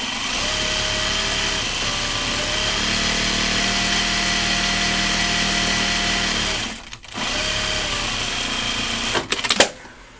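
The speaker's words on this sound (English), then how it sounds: "I just turned and started sewing again" A sewing machine runs steadily as it stitches a canvas backpack strap, with a continuous close whir that stops briefly near the end before a few clattering knocks.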